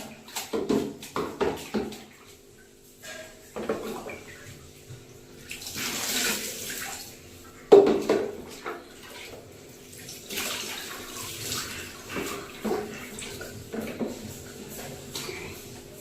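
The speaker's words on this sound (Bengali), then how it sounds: "মাথায় জল দাও, জল দাও মাথায়" Water is scooped and poured over a child's head during a bath, coming in repeated splashing bursts and trickles of varying loudness, with short pauses between pours.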